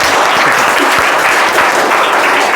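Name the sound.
students clapping, applause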